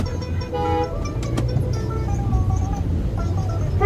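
Cars and buses moving in heavy, rainy city traffic, a steady close roar of engines with brief horn toots over it.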